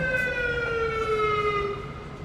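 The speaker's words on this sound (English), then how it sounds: "We've got an ambulance." An ambulance siren wails nearby with a loud, sustained tone that slides slowly downward and fills the whole moment.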